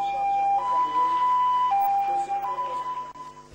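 A fire brigade ambulance in Togo sounds its siren, a loud, steady two-tone wail that steps between pitches, with faint voices underneath.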